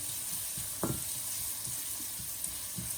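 Chopped onion sautéing in a pan, making a soft, even sizzle with scattered low scraping stirs and one louder clatter early on, fairly quiet and without voices.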